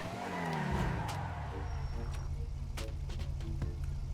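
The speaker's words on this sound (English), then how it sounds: "let's try a brake test." Bravado Banshee GTS sports car in GTA Online braking hard from high speed, with a loud engine note dropping as the car slows and tyres scrubbing, a short sweeping run of engine and tyre noise.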